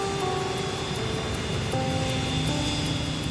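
MD-80 airliner jet engines hum in a steady, continuous drone with sustained tones that shift in pitch a couple of times, moderately loud and without talk.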